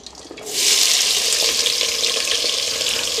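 Steady loud sizzling of food frying in a heavy cast-iron cauldron, starting abruptly after a brief quiet moment and continuing evenly, close up.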